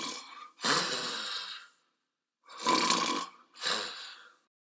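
A person imitates snoring while looking straight ahead, three rough breathy snorts each lasting about a second, close and fairly loud with silent gaps between them.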